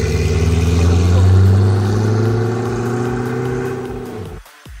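A Koenigsegg CCX-R Trevita's twin-supercharged V8 holds a loud, steady engine drone that swells slightly, then fades and cuts off abruptly near the end.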